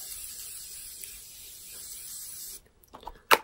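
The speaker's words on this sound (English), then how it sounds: "I'm just going to spray my face with a continuous setting mist by Morphe" Morphe Continuous Setting Mist sprayed onto a face: a soft, steady hiss of fine mist lasting a couple of seconds, followed by a few quiet handling noises and a short sharp burst.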